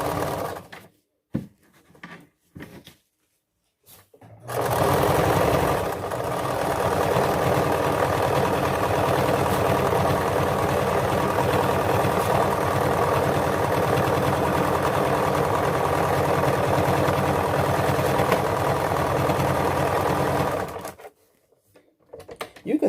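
An old domestic sewing machine runs in one steady, continuous stretch of about sixteen seconds, a close, even mechanical whir with no talking, set between short quiet pauses at the start and end.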